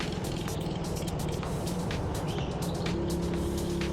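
Go-kart number 15 circulates a public-session indoor track, its small engine giving a steady, continuous drone with busy high-pitched clatter and whine running throughout, fairly close and without a break.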